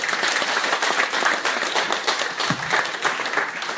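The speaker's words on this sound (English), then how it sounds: "A round of applause for our DJs." A crowd at an outdoor political pep rally in Barrackpore claps and cheers for the DJs, steady loud applause with scattered individual claps throughout.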